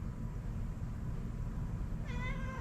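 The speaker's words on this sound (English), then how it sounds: "You walked over here, meowed." A cat gives a single short meow near the end, rising briefly over a steady low background hum.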